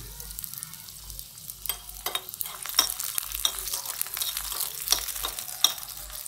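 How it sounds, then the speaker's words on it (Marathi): Garlic roasting in oil in a pan at home, giving a steady soft sizzle with scattered crackles and occasional stirring clinks, close and alone without talk. "लाल होईपर्यंत भाजून घेते लसूण"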